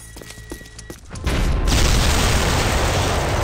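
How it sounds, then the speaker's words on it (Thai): A big in-game explosion in Banzai Escape, arriving as a sudden loud boom after quieter gunfire-like clatter, then a sustained roaring blast that fills the rest of the moment. "แรงระเบิดที่มันโคตรอลังการสัสๆเลยนะ"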